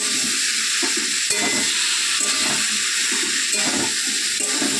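Winter vegetables frying in a pan for a rural vegetarian dish, nearly cooked, are stirred with a spatula in repeated scraping strokes over loud, steady sizzling and hiss, close by, no talk.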